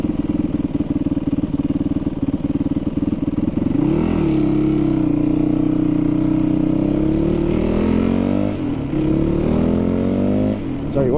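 A Yamaha WR450F motorcycle engine runs close and loud, steady at first and then revved up in several rising and falling throttle blips.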